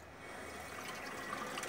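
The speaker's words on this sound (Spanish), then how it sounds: "agua de canilla" Tap water running steadily from a faucet while dishes and odds and ends are being washed, a continuous close splashing hiss with no talk.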